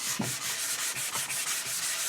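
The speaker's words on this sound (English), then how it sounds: "I like to do a little bit of light sandings sometimes" Light hand sanding on a guitar body with fine paper, several soft rhythmic rubbing strokes in a steady back-and-forth pattern, close and fairly quiet.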